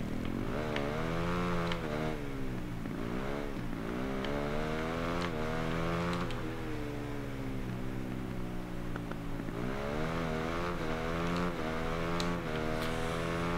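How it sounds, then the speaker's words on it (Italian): A motorcycle engine in the video game Ride 3 buzzes continuously, revving up and down in repeated surges, loud and close with no talking over it. "Davvero figo il suono che fa la moto"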